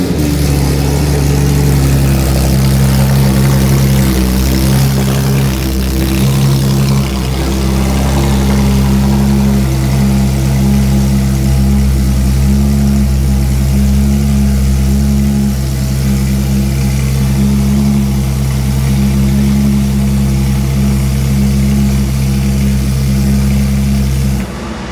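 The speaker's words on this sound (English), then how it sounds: "I put a Soul Performance exhaust on it as well, and this car is stupid loud." A Porsche GT3 RS with a Soul Performance exhaust and headers idles loudly and close by, a deep steady rumble that holds continuously without pauses.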